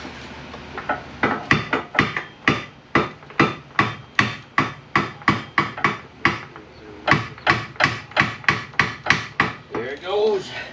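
A hammer taps on an aluminum axle in a garage, giving a long series of about two dozen sharp, evenly spaced metallic strikes, close and fairly loud, with a brief low voice near the end.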